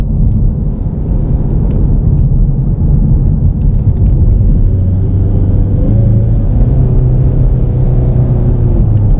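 A 2019 Ford Mustang EcoBoost with an automatic transmission accelerates, its engine a loud, steady low drone that climbs in pitch and drops back as the gearbox upshifts several times, heard from inside the car.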